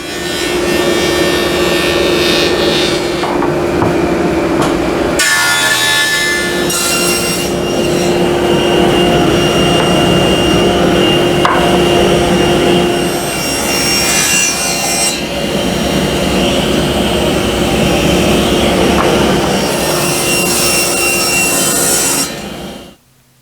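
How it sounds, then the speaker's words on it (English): A planer runs poplar lumber boards down to 3/4 inch, a loud, continuous roaring cut that lasts over twenty seconds with a brief dip between boards before cutting off abruptly at the end. "we're going to plane these down to 3/4 inch."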